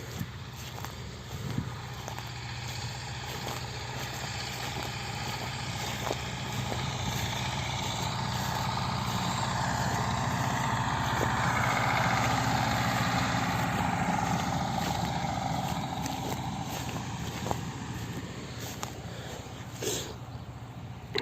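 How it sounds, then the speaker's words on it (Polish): An Ursus C360 tractor pulls a 165 cm rotary mower through hybrid rye for silage, a steady continuous engine drone with a low rumble and broadband mower whir running unbroken throughout, fairly close. "Kosimy kosiarką rotacyjną 165 cm Ursusem C360"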